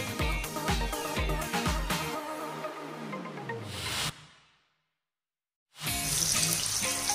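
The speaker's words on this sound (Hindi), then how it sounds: "अब हम फ्लेम स्लो कर लेते हैं एंड इसमें चिकन पॉप्स फ्राई करेंगे।" Chicken popcorn pieces dropping into hot oil over a low flame, giving a loud steady sizzle and hiss that cuts out briefly to near silence before the sizzling resumes just as strongly.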